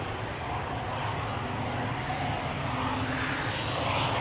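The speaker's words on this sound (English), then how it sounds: "JetBlue flight 2289 to New York JFK A321neo" Airbus A321neo jetliner of JetBlue departing Amsterdam Schiphol Airport, a steady broadband engine roar that holds loud and continuous throughout, with no voices over it.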